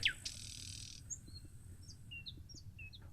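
A nightingale sings faintly in the distance, with scattered short whistled notes over a low background hum.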